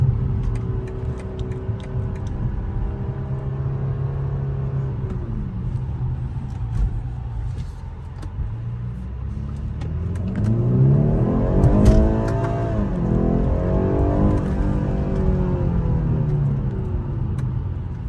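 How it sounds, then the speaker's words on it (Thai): A 2021 BMW 430i M Sport (G22) with a 2.0-litre 258 hp turbo engine hums at a low, steady level from the cabin, then surges into a strong rising rev as it accelerates hard before easing into a sustained drone. "โอ้เร่งเร็วมากเลยนะครับ"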